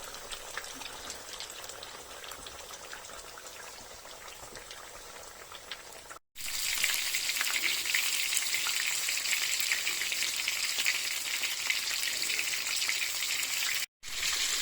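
Schnitzel frying in a hot pan: a dense, steady sizzle and crackle that jumps louder after a brief cut and continues close up without any voices.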